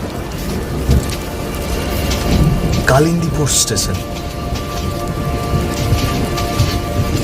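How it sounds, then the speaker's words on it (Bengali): Heavy rain and a thunderstorm as a cartoon sound effect, a steady rain wash with a thunder rumble near the middle, heard under a narrating voice. "প্রচন্ড ঝড় বৃষ্টি বইছে বাইরে।"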